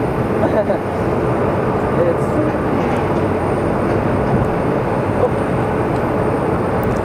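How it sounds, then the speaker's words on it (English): A WestJet airliner arriving at Phoenix Sky Harbor Airport produces a steady, loud broadband engine roar that holds evenly throughout, with no breaks or talking over it. "And we have our WestJet coming in."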